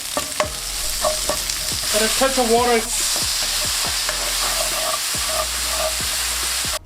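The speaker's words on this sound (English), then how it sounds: "Give that a mix and cook the rawness of that paprika powder." A spoon stirs paprika powder through a steadily sizzling frying pan with repeated scrapes, and a voice briefly speaks partway through.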